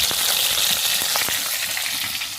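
Fish sizzles loudly in hot oil in a pan, a dense continuous frying crackle with a few sharper pops and spatters, close and alone without talk.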